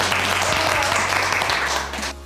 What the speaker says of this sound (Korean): 부위원장님이나 우리 오산철 본과장님 일단 고생하셨다고 박수 한번 부탁드립니다.